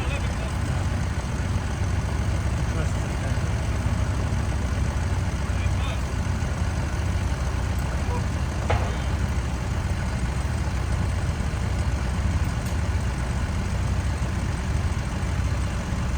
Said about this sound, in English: All these diesel engines running.